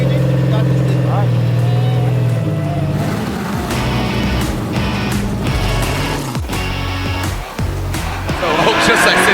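A BMW Formula Drift car's engine roars loudly and continuously as it powers up a hill into a corner, with rising revs and tire scrub, and a commentator talking over it throughout.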